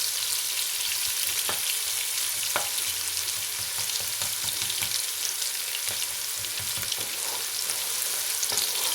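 Food browns in oil in a pan, a steady loud sizzle and crackle lasting throughout, with occasional faint stirring taps.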